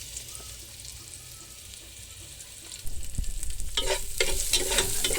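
Onion and garlic sauté in a pan with crab, sizzling and frying, with stirring and scraping that grow louder and busier partway through.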